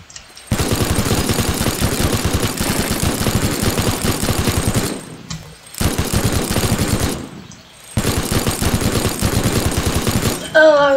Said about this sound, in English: I don't know why the minigun couldn't get it.